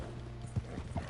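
Horse hooves galloping in the video game Red Dead Redemption 2, heard as a few soft, uneven thuds at low volume over a faint steady background hum.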